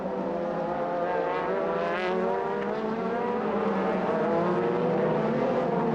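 A DTM race car from the 2007 season spins off the track as its engine screams loud and continuous, the high whine wavering in pitch throughout without a break.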